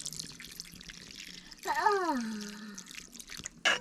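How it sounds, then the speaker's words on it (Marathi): Water poured into a chicken and drumstick curry in a pot gives a brief gurgling splash with a rising tone, followed by a short clatter, all fairly quiet. "तर आता याच्यात पाणी ओतते आणि थोड्या वेळेशी झाकून ठेवते शिजायसाठी"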